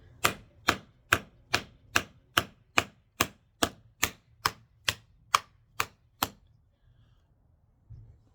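A Skyraider Banshee blade chopping into beef bone, fifteen sharp, evenly spaced heavy thwacks at a brisk rhythm, close and clear, then quiet.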